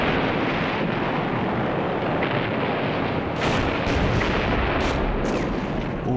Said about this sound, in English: Terrific bombardment, awful noise rolling around the cliffs.